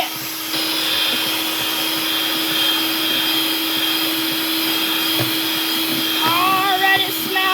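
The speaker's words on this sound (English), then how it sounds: "So we're gonna get our mixer." An electric mixer whirs continuously as it beats no-bake cheesecake filling, a loud steady motor hum with a faint pitch wobble toward the end.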